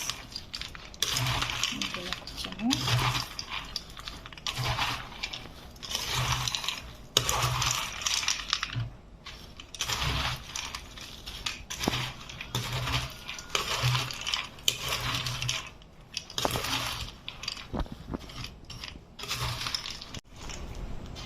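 Nutrela soy chunks and peanut pickle stirred and mixed with a spoon in a bowl, giving repeated scraping and clinking strokes in an uneven rhythm over about twenty seconds, close and fairly loud, with no talk.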